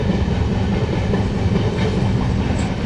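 An Indian sleeper class train runs along the tracks, a loud, continuous rumble heard from inside the carriage with faint rhythmic wheel clatter underneath.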